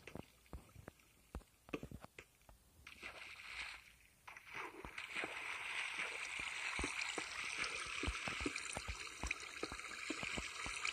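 Minecraft water flows and sloshes steadily underground, a continuous rushing wash that swells after a few seconds, with scattered clicks and thumps of block actions alongside.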